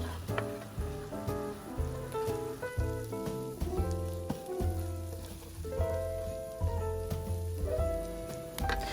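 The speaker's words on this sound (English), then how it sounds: "Then you're just going to saute those herbs and onions together until they become" Herbs and onions sautéing in a pan, with a soft continuous sizzle and light crackle sitting beneath louder background music, fairly faint and steady throughout.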